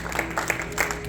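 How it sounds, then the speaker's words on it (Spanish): Church congregation applauding, a brief burst of scattered hand claps with some voices mixed in. "Den un aplauso a mi hermano Natanael del Señor"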